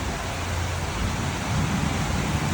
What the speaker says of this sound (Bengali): কোথায় কোথায় এরকম ঝুম বৃষ্টি হচ্ছে বলেন